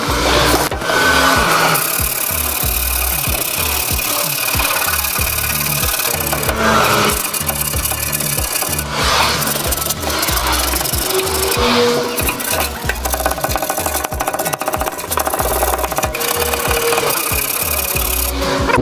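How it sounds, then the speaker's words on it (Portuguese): Sandpaper scrubbing the rusty interior of a microwave oven, a steady, loud scratching that runs continuously with short rhythmic strokes and no talking. "Agora vamos usar uma lixa para poder fazer o acabamento aí"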